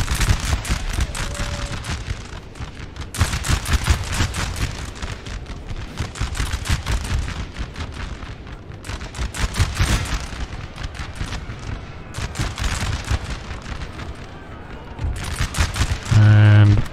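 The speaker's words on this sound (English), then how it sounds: "Oh, everyone's firing." Musket volleys crackle across a Napoleonic Total War mod battlefield, with repeated clusters of ragged shots from many infantry rolling over one another at close range, loud and continuous, with a brief tonal swell at the end.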